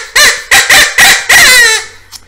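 A handheld fox predator caller blown to imitate ducks or quails gives five loud, close, raspy clucking bursts in quick succession, the last one drawn out before a faint trailing note.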